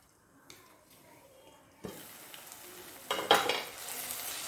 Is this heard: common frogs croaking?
no